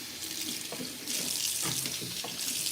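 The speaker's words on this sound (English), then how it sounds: "I'll pull the faucet." Water runs from a kitchen sink faucet over rinsed, stacked dishes in a steady, close rush that swells slightly partway through, with no talking.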